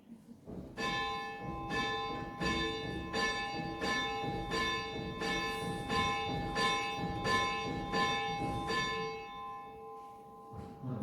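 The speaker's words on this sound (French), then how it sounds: "Quelqu'un sonnerait la cloche?" A church bell rings steadily at a Christmas Day service, striking in a regular rhythm for about ten seconds with rich, sustained overtones. The strokes stay moderately loud before fading at the end.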